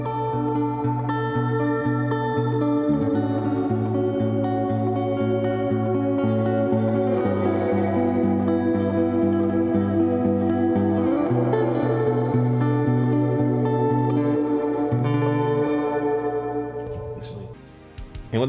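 Sustained, washy Fender American Ultra Jazzmaster chords through a Walrus Audio R1 reverb pedal on a big reverb setting, ringing into a huge, lush tail, notes blurring together continuously before a soft fade near the end.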